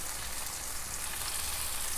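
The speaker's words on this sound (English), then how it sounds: "So my bananas are getting roasted." Steady, close sizzling of raw bananas frying in a hot pan, an even crackle with no voices.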